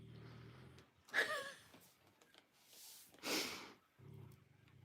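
Soft snorting breaths from an animal, a couple of louder snuffling bursts between low rhythmic snores, close by and fairly quiet, with no talking.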